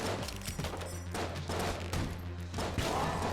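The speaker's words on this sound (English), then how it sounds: "let's try out this flare gun" Flare gun shots in the video game Enter the Gungeon, a few popping bursts fired in quick succession amid dense, busy game sound effects and music, fairly loud throughout.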